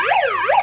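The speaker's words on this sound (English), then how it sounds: "Everybody loves the siren late at night." A wailing emergency siren late at night, rising and falling through about one and a half sweeps, loud and close, briefly caught.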